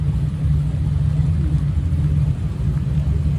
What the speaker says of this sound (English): I hear cars out there on the track in the rain